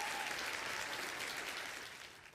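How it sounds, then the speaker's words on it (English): A crowd cheering effect in a video game, a dense wash of applause-like noise that starts full and slowly fades, heard alone and fairly quietly. "the crowd goes wild for the Grandmaster pun"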